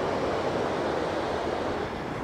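Ocean surf rolling onto a beach in Santa Cruz, a steady, loud wash of broadband noise with no distinct breaks, partly roughened by wind across the microphone.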